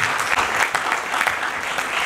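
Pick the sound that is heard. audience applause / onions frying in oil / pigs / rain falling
audience applause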